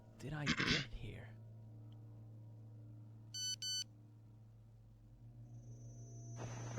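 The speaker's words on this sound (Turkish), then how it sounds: "Telefon çaldı." A telephone rings in the horror video game Cry of Fear, two short electronic trilling bursts in quick succession against a low droning hum, after a brief murmured voice at the start.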